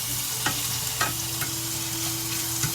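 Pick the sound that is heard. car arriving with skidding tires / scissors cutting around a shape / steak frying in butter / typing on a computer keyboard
steak frying in butter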